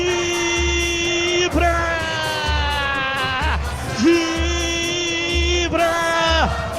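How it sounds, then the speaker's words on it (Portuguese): A stadium crowd celebrates a goal in a Guarani versus Volta Redonda football match with loud, sustained chanting and droning horn-like tones, backed by steady, booming drum beats across a wide, echoing space. "a torcida vibra"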